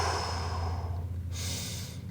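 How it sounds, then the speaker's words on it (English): Deep, slow breaths during a workout: a long airy exhale followed by a brief pause and a sharp inhale, close and faint over a steady low hum. "Nice deep breathing."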